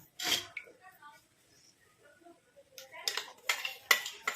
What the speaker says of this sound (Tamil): இப்போ இந்த அரைச்சதை வந்து நம்ம ஒரு இரும்பு கடாயில் வந்து ஆட் பண்ணிக்கலாம்